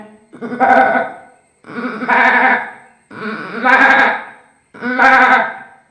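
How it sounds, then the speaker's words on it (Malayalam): A billy goat bleats four times, each call long and wavering, evenly spaced with short silences between, loud and close. "അടുത്തതായി മുട്ടനാട് കരയുന്നതാണ്"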